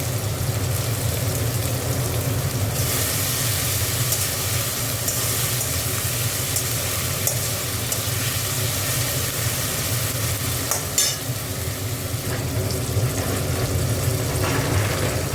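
Ginger and garlic fry in oil for a simple egg curry, giving a steady broad sizzle that brightens as the pan is stirred, fairly close and continuous with a faint scrape or two and no talking.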